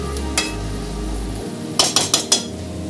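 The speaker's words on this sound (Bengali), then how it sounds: "মাটনটা এবার আমি ভালো করে পুরো কষিয়ে নেব, লাল লাল করে পুরো কষিয়ে নেব।" Mutton being stir-fried (kosha) in a pan: a low frying hiss, then a quick burst of sharp metal clinks and scrapes as a utensil hits the pan several times.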